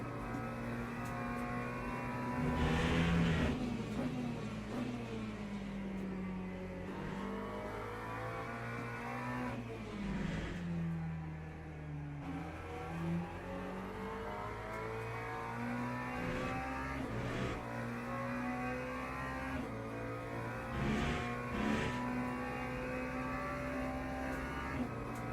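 A racing video game car engine howling continuously near the listener, rising through revs and dipping at gear shifts in repeated waves over about twenty-five seconds, with no talk.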